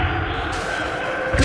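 The Bombarda blasting spell goes off in Hogwarts Legacy as one dull, thumping blast, loud and close, over steady game ambience.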